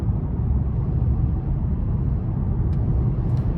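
A 2017 Buick LaCrosse Premium accelerating on the road, giving a steady low engine and road rumble heard from the cabin, smooth and even throughout with no talk.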